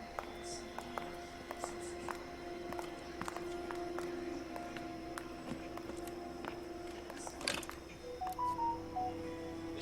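A phone is dialed in the video game L.A. Noire: a run of sharp key tones and clicks over a steady in-game hum, with a few louder knocks near the end.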